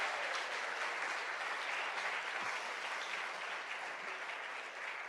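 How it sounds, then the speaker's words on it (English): Sustained applause from an audience at a spring fundraiser concert, a steady wash of many hands clapping at even loudness throughout, with no voices over it. "Give them a round of applause."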